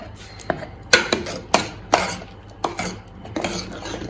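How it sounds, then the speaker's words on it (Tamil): A ladle mashes cooked dal in a pot for Andhra-style pappu charu, making a rhythmic series of close metallic clanks and soft squelches about every half second. "இப்போ இதில் வந்து நம்ம ஒரு கரண்டியால் மசிச்சா போதும்."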